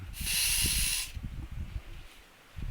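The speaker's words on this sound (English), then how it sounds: "It sound like you were spraying something." An aerosol spray can hisses in one loud, steady burst lasting about a second, aimed at a spider on a wall indoors, followed by quieter rustling and handling sounds.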